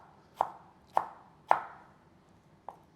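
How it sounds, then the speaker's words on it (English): A knife chops tomatoes into rough half-centimetre cubes on a cutting board, four crisp separate knocks, three fairly evenly spaced and a lighter last one after a pause, close and alone. "we're just gonna chop these up to start our base"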